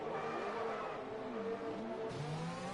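Race car engine in a racing video game revs back up after a spin at turn 1, a rising, stepping whine heard fairly faint with no voices.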